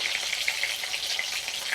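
Stuffed bitter gourd (karela) frying in oil in a pan, a steady close crackling sizzle with dense popping that continues evenly throughout, with no voices.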